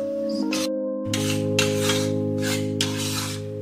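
A spoon scrapes and stirs water chestnut flour roasting in ghee in a pan over medium heat, giving repeated rasping strokes in a steady rhythm over a constant low hum.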